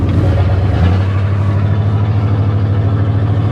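An old car with big tires, a knocking 351 V8 engine on its first drive in 15 years, growls loud and close at a steady rough idle after a brief rev, its low throbbing tone unbroken and without talk.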